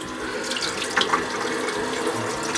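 Hot water runs steadily from a tap into a sink, a close, continuous hiss and splash with slight fluctuations throughout and no talking.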